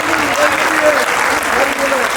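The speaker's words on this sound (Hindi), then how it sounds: "आज की तालियां आज ही बजा लेना।" Steady applause from a live audience at a Hindi comedy poetry show (hasya kavi sammelan) in Surat, a continuous dense clapping wash throughout with some faint voices mixed in.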